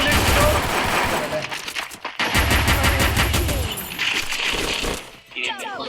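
Rapid gunfire from the video game Free Fire: dense bursts of automatic shots crackle loudly and almost without pause, broken by a brief gap near two seconds and a fading tail with metallic tinkling at the end.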